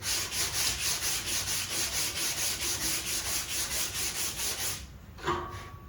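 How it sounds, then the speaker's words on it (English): Body filler on a car panel is sanded with 120 grit paper on a Velcro block in steady, rhythmic back-and-forth strokes, close and continuous, ending with a brief knock. "when I start to sand, now I'm only using 120 grit there"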